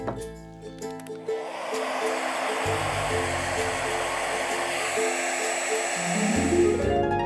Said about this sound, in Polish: Suszymy suszarką.